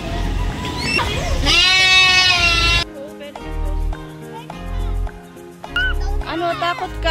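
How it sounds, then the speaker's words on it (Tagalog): A goat bleats at a zoo in Albay, Philippines: a wavering, strained bleat of about a second, followed by a few shorter calls, close by and mixed with people talking. "Ano sabi niya yung goat?"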